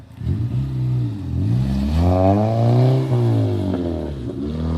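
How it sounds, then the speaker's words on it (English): A car engine revs hard with a loud, throaty exhaust, the pitch climbing and dipping through several pulls, close and continuous. "The exhaust on that thing is so funny."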